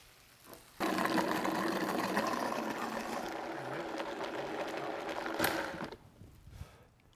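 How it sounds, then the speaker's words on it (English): Broiled salsa ingredients being coarsely ground in a blender or grinder for tacos, a steady loud whirring mechanical grind that runs for about five seconds, then stops, with brief rattling at the ends. "We're just gonna go ahead and coarsely grind it."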